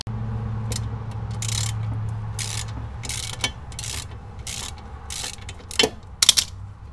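A ratchet wrench works loose old sway bar links on a 1994 Subaru Legacy Turbo, giving repeated bursts of close, sharp clicking with a low hum underneath.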